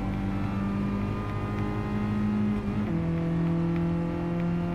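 A Volkswagen Golf I GTI engine in Gran Turismo Sport racing, a steady loud droning engine note holding high revs, then dropping in pitch around a gear change and continuing, with no talk.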